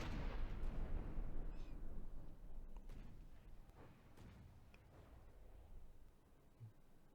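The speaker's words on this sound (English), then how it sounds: "Just kind of just sitting in the back, lobbing shells." Artillery shells fired in a video game, a heavy deep boom opening the sequence and rolling away, followed by fainter distant thuds and pops.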